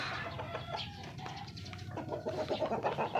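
Gamecock roosters clucking as they are fed, soft, scattered clucks and chirps close by over a faint outdoor background.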